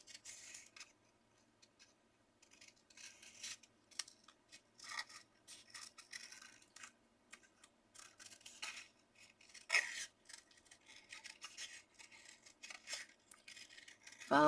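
Scissors snip steadily around the edge of a paper Easter card, a close series of crisp, uneven cuts with brief pauses between them, quiet and alone.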